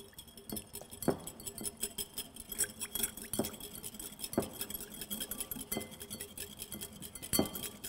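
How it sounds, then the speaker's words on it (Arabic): A metal whisk beating olive oil into a vinaigrette, rhythmic clinking taps against the bowl with intermittent sharper strikes, close and fairly quiet, with no talking. "وتوا شويه بشويه باش نصبوا زيت الزيتونه وندوروا بالفوي فرد مره"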